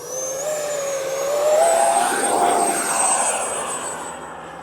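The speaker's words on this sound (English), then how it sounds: "Full power on the Rafale." FMS 80mm Dassault Rafale RC electric ducted-fan jet spooling to full power, a loud steady whine rising and holding close by, swelling louder mid-clip as it rolls away.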